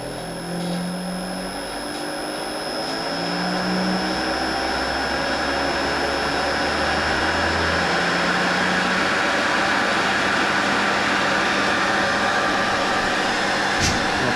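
An oil centrifuge spinning up to clean used gear oil gives a steady whirring, airy hum that rises in pitch and holds at a constant drone. A few low tones and a faint tick sound near the end.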